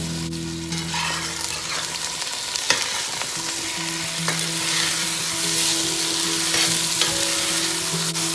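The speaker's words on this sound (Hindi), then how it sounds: "ऑयल लूँगी और इसमें प्याज, टमाटर और लहसुन अदरक वो ऐड कर लूँगी और इसको सौते करेंगे" Onion, tomato, garlic and ginger sauté in two tablespoons of hot oil for palak paneer, giving a steady close sizzle with scraping stirs over about eight seconds and no talk.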